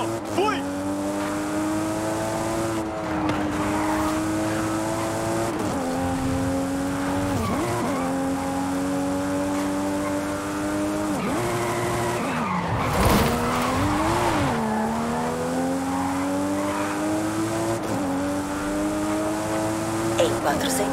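Car skidding in the racing game Forza 5, a long sustained engine drone with wavering tire squeal and slides, loud and continuous with brief swells, while a person talks over it.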